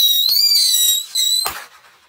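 A small firework rocket launches with a rising whistle that holds steady for about a second, then gives a brief burst or pop before trailing off into quiet; close and fairly loud.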